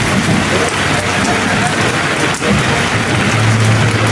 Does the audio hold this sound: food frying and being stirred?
no